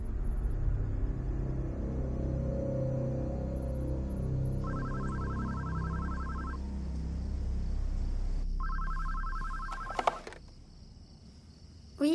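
A telephone rings in two electronic trilling bursts over a low background rumble, followed by a click as it is picked up.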